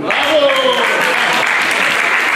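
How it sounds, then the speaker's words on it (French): An audience applauds children at a live quiz challenge in Paris, a loud, dense burst of clapping with a voice speaking over the start. "Applaudissez-les s'il vous plaît."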